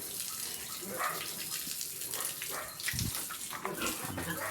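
Pigs are bathed with water on a farm: running water splashes steadily while pigs grunt and squeal now and then, with a louder burst near the end and no clear talk.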